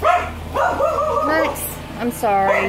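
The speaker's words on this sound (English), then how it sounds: "Sorry about the dog barking" An indoor dog barks a couple of short, sharp times in a home kitchen while pizza dough is being made, close and loud, overlapping someone talking.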